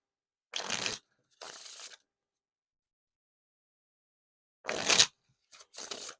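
Six String Classic Edition playing cards being shuffled: four short, crisp riffling bursts separated by pauses, close and fairly quiet, with no talking.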